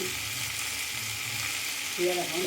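Onion, garlic and spices fry in hot oil for a masala base, giving a steady close sizzle with a brief stirring scrape near the end.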